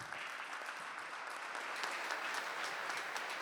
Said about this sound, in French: On peut vous applaudir à nouveau.